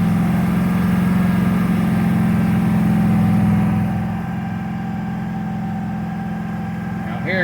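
Dakota truck engine held at a steady fast idle around 2,500 RPM, a constant droning hum that drops slightly in level partway through, close and alone.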